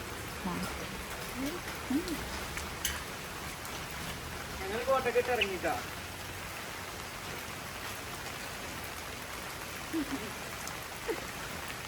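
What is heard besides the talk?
rain falling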